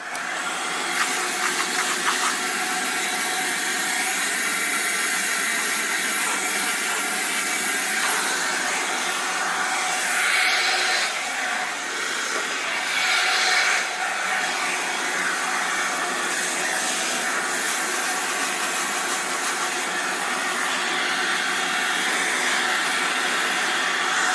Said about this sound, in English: we're doing a vacuum